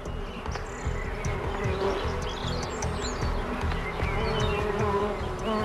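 Foraging bees visiting flowers for nectar buzz steadily and continuously, a dense close drone with faint bird chirps behind it.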